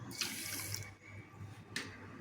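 Water pours steadily into a pan while making sweet shankarpali dough, a continuous faint splashing stream with a couple of brief brighter splashes, heard alone.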